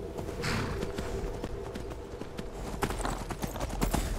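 Rhythmic clip-clop of horse hooves at a steady run in The Elder Scrolls V: Skyrim, continuous and fairly close, with game ambience underneath.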